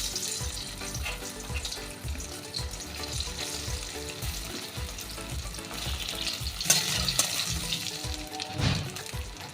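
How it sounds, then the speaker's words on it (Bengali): Boiled potatoes frying in hot oil in a home kitchen, sizzling steadily and fairly close throughout, with occasional clinks and stirring noises over the top and no one speaking. "এবার এই সেদ্ধ আলুগুলো আমি ভেজে নেব।"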